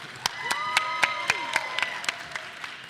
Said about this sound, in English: can we give a round of applause for our wonderful chair